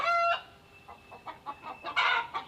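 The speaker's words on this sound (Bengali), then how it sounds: "দেখেন, পাঁচতলা ছাদের উপরে মুরগির খামার" Chickens on a five-storey rooftop poultry farm cluck and squawk in short bursts, a brief shrill call opening into scattered clucks from nearby birds, fairly quiet, no talking.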